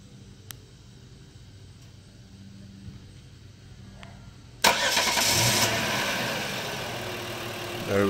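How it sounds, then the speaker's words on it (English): A car engine cranks and catches after a starter relay fault, a sudden loud start from near silence that settles into a steady, close idle. "turn the keys to the on position, and the engine should start if there's no other problem."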